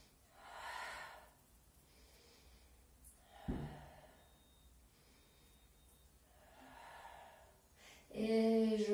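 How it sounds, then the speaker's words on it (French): Steady breathing during a Pilates exercise: several soft, airy inhales and exhales spaced a few seconds apart, quiet and close. A brief louder voiced sound comes at the very end. "Vous allez rester 3 respirations complètes."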